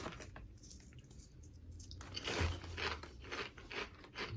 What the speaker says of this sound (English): Now these chips, despite their crunchiness,